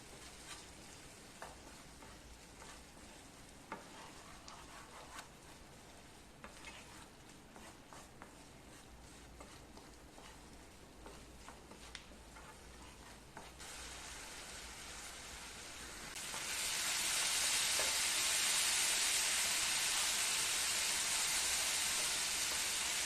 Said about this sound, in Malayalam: ഇനി ഇത് 2 മിനിറ്റ് ഹൈ ഫ്ലെയിമിലേക്ക് തിളപ്പിക്കാം.